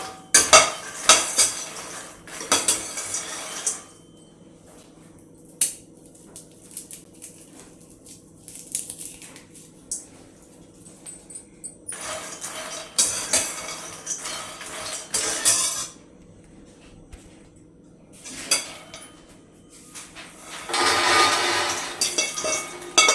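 Food frying in a pan on a hot stove with ghee and turmeric, recurring bursts of metal spoon scraping and clinking against the pan between quieter stretches of low sizzle, no voices.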